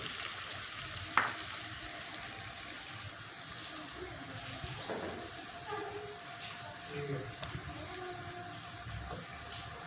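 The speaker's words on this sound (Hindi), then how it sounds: "अब मैं इसमें ऐड कर रही हूँ टमाटर, मसाले डाल रही हूँ।" Tomatoes and spices fry in a pan for a potato and eggplant curry, giving a steady close sizzle with a few soft clinks and stirring scrapes, and no talk over it.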